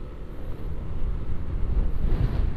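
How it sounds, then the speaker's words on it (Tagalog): Strong wind buffets a delivery rider's microphone out on the streets of Metro Manila, a loud, continuous low rumble that surges and gusts with no voices. "Ang lakas ng hangin, grabe."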